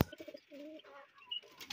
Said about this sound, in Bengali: এখানটা আমার কবুতরগুলো আছে, দেখুন।